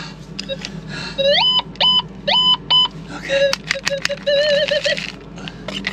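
A Gold Monster 1000 metal detector, sweeping over placer gold, gives a rapid series of sharp electronic beeps, some rising and warbling in pitch, loud and close, in bursts with short gaps.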